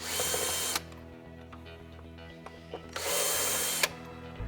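A power drill backs out screws on the motor controller of an MGI Navigator Quad Gyro: two close, loud bursts of whirring drill motor separated by quieter clicks and handling noises.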